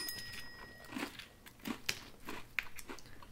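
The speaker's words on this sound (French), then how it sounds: "Bon, on sent que c'est croustillant, Marc-André." Crunchy oven-baked frozen poutine fries being bitten and chewed up close, with several sharp crunches spread across the moment, fairly quiet.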